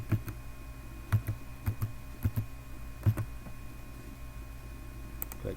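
Quiet, close keystrokes on a computer keyboard as a password is entered during a SQL Server 2014 cluster installation, a handful of irregular clicks in short bursts with pauses between them.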